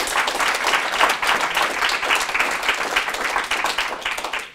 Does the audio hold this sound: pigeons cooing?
no